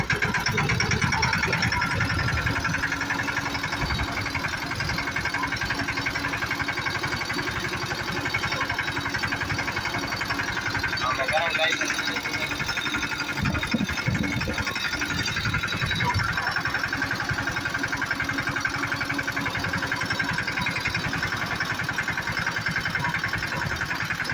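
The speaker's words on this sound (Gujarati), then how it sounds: "હાલો તો ભાઈ આપણે ઝીણકું ટ્રેક્ટર લઈ અને નીકળી ગયા છીએ" A small mini tractor heading out to the farm, its engine chugging steadily and loudly the whole time, with rattles and bumps from the ride over the constant drone.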